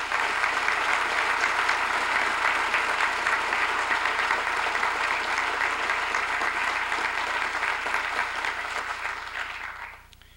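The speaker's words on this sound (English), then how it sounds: "We applaud you tonight." Sustained audience applause at a city State of the City address, loud and dense throughout the hall before tapering off in the final second.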